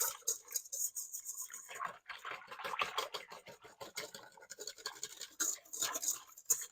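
A whisk scrapes and stirs a sticky bread dough mixture of flour in a bowl, soft irregular strokes up close and fairly quiet, with no talking.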